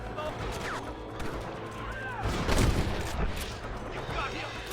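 Gunfire in the Red Dead Redemption video game crackles as several sharp shots and bursts over a busy in-game background, mid-loud and spread across the scene.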